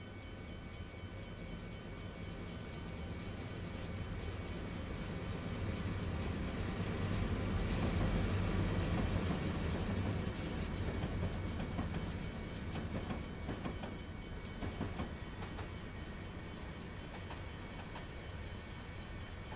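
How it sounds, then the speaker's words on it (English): A short auto rack freight train rolls past in Train Simulator 2020 near Cheyenne on Sherman Hill, a steady loud rumble and rattle of wagons sustained throughout, swelling slightly in the middle. "that was a very short auto rack train"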